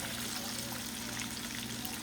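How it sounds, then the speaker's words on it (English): Steady, dense crackling sizzle of battered shrimp frying in hot oil, continuous and fairly loud, with no voices. "We'll continue frying, and then we will be taking these out as we go."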